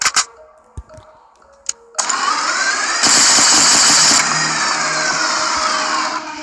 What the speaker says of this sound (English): I just love that spinning effect